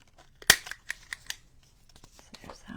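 Scissors cutting the corners of a card make a quick series of sharp snips, one loud cut followed by several lighter clicks, close by with a little background noise.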